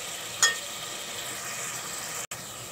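Tomatoes are mashed in a hot pan, a steady close sizzle of frying with one sharp scrape of a utensil near the start and a brief cut near the end.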